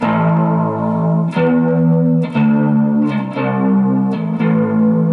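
Bass guitar played through an Orange Crush 35 RT amp with heavy chorus and modulation effects, sustained notes changing every second or so, loud and close with no talking.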